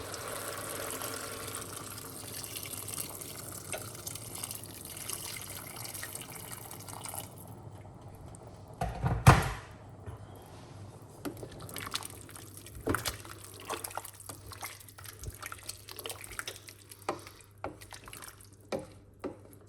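Hot water pours and trickles steadily into a container nearby for chicken soup, with a sharp knock partway through and small clinks and drips afterward.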